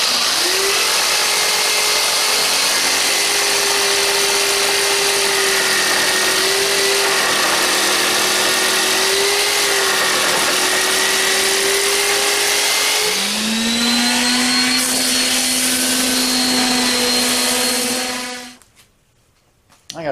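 A power tool, such as a saw or router, cuts through two clamped wood pieces at once for a turntable build. It makes a steady, loud whine that shifts pitch near the end, then stops abruptly.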